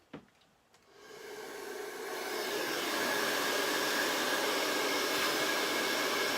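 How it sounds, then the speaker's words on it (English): Hair dryer on its cold setting drying a transfer on a home decor sign: after a couple of clicks it starts up and its whooshing roar builds over two seconds into a loud, steady blow. "we're going to hit them both with a dryer"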